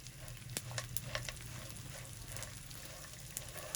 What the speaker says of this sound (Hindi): ये 50 ग्राम गोंद बची थी, ये भी हम फ्राई कर लेंगे उसी तरह